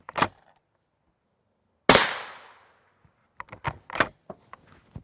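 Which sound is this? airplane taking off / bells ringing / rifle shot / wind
rifle shot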